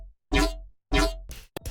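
Raw Serum synth yoink patch, two loud swelling tonal hits with rich harmonics, each about a third of a second, followed by a quick stuttering burst of shorter chopped notes.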